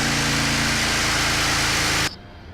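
A car engine runs steadily for about two seconds, loud and close with a low droning rumble, then cuts abruptly to a quieter background.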